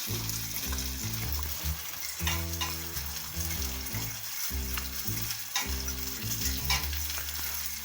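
Food crackles and sizzles steadily in hot oil in a home kitchen, with occasional scraping as it is stirred; the frying is continuous and close, and nobody talks over it.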